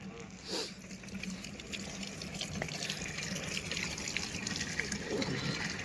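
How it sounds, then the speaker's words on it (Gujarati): Municipal corporation water runs from a tap in a steady, hissing stream at a residential building, with a short burst of voice near the start. "આ કોર્પોરેશનનું પાણી છે ને."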